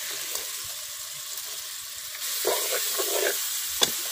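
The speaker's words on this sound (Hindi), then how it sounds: "मटन गोश्त जो है मैंने डाल दिया है। अब इसको अच्छी तरह से भुनेंगे।" Mutton pieces frying in a karahi, a soft continuous sizzle that picks up partway through with a few stirring scrapes, close up and with no one talking.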